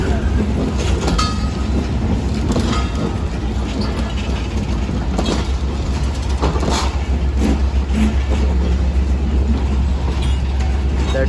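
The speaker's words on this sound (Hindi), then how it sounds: "ज़बरदस्त एक्सीलेरेट भी किया ZCU13 ने।" A ZCU13 diesel locomotive hauls a passenger express and accelerates hard out of a station, a loud continuous roar of engine and rolling wagons with rattling bursts throughout and faint talk underneath.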